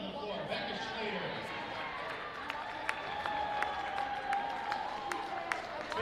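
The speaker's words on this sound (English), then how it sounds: "Let's give them all a big round of applause." Crowd applause fills a gym at a girls varsity high school basketball game between Forest Lake and Cambridge Isanti, a steady wash of clapping with a few sharp claps standing out, under an announcer's voice.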